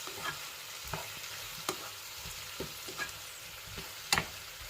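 Pepper and salt being stirred together in a pan, a quiet scraping stir with sporadic sharp clicks of the utensil against the pan over a faint sizzle, no voices.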